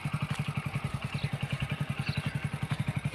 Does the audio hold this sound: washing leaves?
no